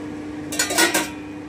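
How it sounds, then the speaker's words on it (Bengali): A lid lifted off a pot of fish curry with cauliflower and potatoes, a brief metallic clatter and scrape lasting about half a second over a low steady hum. "এবারে আমি ঢাকাটা তুলে নিচ্ছি"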